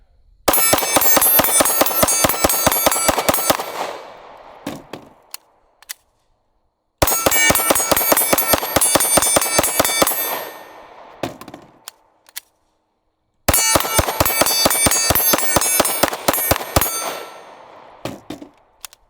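A Glock Gen 5 pistol fires round after round in a torture test: three long strings of rapid, sharp, loud shots, each string followed by a brief silence.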